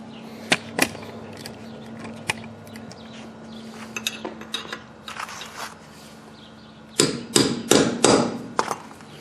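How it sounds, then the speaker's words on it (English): A metal punch is hammered against a front wheel bearing nut on a Honda Civic, denting it into the axle keyway. A few sharp, isolated strikes come early, then a cluster of four or five louder, ringing blows near the end. "take a punch or a chisel or what have you, and just dent that nut down right into that keyway"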